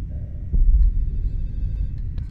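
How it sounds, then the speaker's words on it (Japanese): A telephone rings inside the horror video game Fatal Midnight, a thin electronic ring sitting over a low, steady rumble, with no one talking. "あ、電話鳴ってる。"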